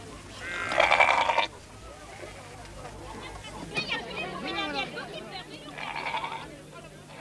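A flock of inoculated sheep bleats repeatedly, the cries moderately close over a steady low hum, with a faint murmur of voices in the background.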